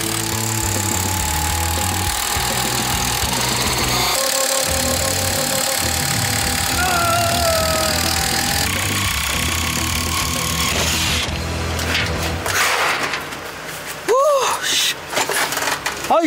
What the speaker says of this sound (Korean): 모듈러 한옥은 수만 번의 전동 드릴로 지어집니다.